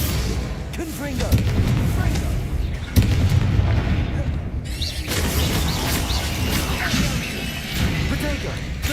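Explosive spell blasts from the Hogwarts Legacy video game, Bombarda and Confringo, boom and crash repeatedly amid combat effects, while a player shouts spell names throughout over the dense game audio.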